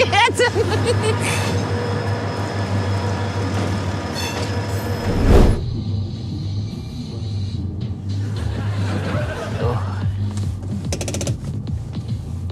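A train rumbles past nearby, a steady low mechanical roar with a sharp clank midway and faint wheel squeal near the end.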